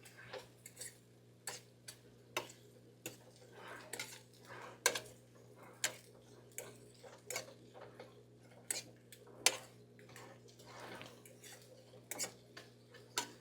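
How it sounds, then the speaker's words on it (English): A utensil stirring a mixture of egg, bitter melon and tomato in a pan, giving sharp metallic taps and scrapes at an uneven rhythm over a faint background hum, quiet and close, with no talking. "I'm just going to add this mixture of egg, bitter melon, and tomato. Let's mix that up."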